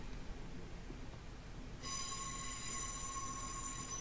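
A Class 150/2 diesel multiple unit cruises on the Penzance to St Ives line in Train Simulator 2020. A steady low rumble is joined after about two seconds by a constant high-pitched traction whine.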